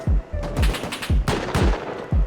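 Rapid bursts of video game gunfire crack close and loud in short repeated volleys, with gunshots spaced a fraction of a second apart and no talk over them.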